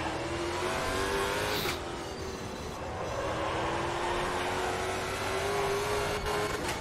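Stock car engine in the racing game Automobilista 2 at Hockenheimring, a steady loud drone holding high revs throughout with slight pitch shifts, alone with no talk.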